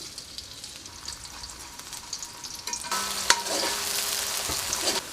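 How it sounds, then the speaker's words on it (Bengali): Chopped onions hit hot oil in a wok already used for frying fish, bursting into a steady broadband sizzle with occasional stirring scrapes, close and continuous without any talking. "এই তেলে আমি মাছগুলো রান্না করে ফেলবো। দিয়ে দিচ্ছি পেঁয়াজ কুচিগুলো,"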